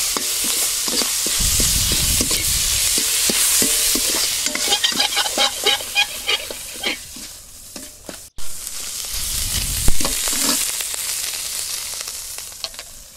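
Shrimp seasoned with salt and turmeric sizzles in hot oil in a pan, with steady frying hiss and irregular scraping and stirring clicks from a utensil, no voices.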